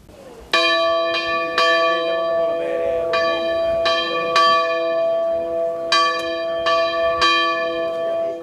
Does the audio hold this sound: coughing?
no